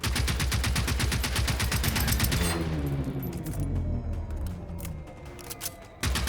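Gunfire rings out in the video game Generation Zero: a rapid, loud automatic burst hammers for a couple of seconds. Scattered echoing shots and rumbling reverberation follow, then a final sharp report.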